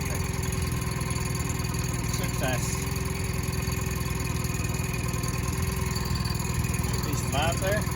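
A newly bought long-shaft outboard boat engine runs at a steady idle with a continuous buzzing, chugging drone, close and even, with a few faint chirps over it.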